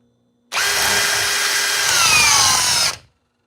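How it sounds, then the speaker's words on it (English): A cordless power drill with a spline drive socket drives a 3/8 by 5 inch lag screw, a loud whirring burst starting abruptly and grinding on for about two and a half seconds before stopping. "And let's drill this 3/8 by 5" lag."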